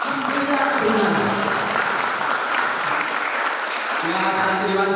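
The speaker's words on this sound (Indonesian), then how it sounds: "santriwan sama santriwati di sini enak saja tepuk tangan" An audience of boarding-school students, boys and girls, claps steadily at a gathering in Puncak Wangi, Pati; dense, continuous applause fills the whole stretch, with some voices mixed in.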